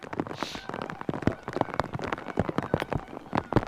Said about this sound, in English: rain continues to really come down here, making this thing a little bit more difficult